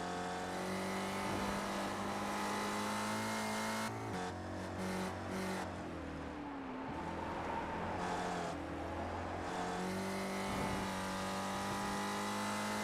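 Simulated race cars lapping Mid-Ohio Sports Car Course in a sim racing series: a steady, loud engine drone with rising and falling pitch as cars shift and accelerate, continuous throughout.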